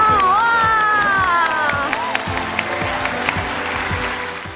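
A studio audience applauds and cheers at a Chinese food show's seafood feast, as a dish with Sichuan peppercorns is served. The clapping and crowd noise run steadily throughout, with a voice briefly rising over it near the start.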